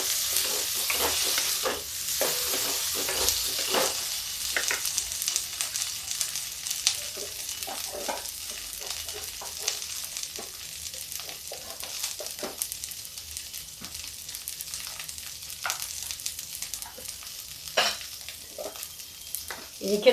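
Potato pieces and lightly cooked onion fry in a pan, giving a continuous sizzle broken by frequent scraping stirs and clacks of a utensil against the pan.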